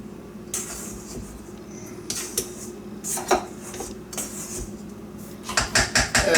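A utensil scrapes and clinks against a bowl while buttermilk biscuit ingredients are mixed, with irregular taps and strokes that turn into a quicker run of close, sharp knocks at the end.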